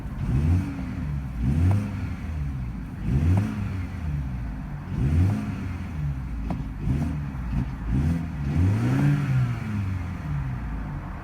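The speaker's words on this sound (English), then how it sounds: "Let's give it a quick rev." A 2018 BMW 430i xDrive's 2-liter turbocharged four-cylinder revs repeatedly, its engine note rising and falling in steady swells, close and loud with no talking.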